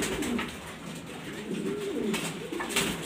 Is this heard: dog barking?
no